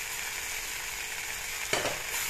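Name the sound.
dried fish frying in a pan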